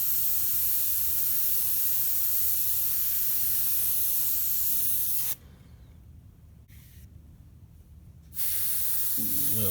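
Airbrush spraying paint on a shark artwork, a continuous soft hiss that stops for about three seconds near the end and then resumes.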